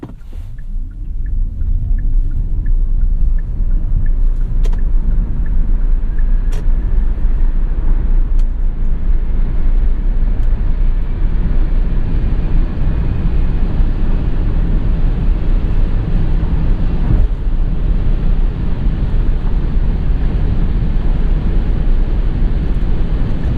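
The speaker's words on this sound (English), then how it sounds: "let's see how this thing accelerates" A 2017 Kia Soul EV electric car accelerates with the traction control off, giving a loud, steady interior rumble of road and wind noise with a faint rising motor whine in the first seconds; no one speaks.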